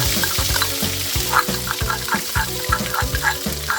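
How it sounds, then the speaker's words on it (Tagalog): Chopped shallot and garlic sauté in a hot pan for nasi goreng, giving a steady close sizzle with soft scraping stirs and faint clinks over a low rhythmic background hum, no voices. "igigisa na natin yung aromatics natin"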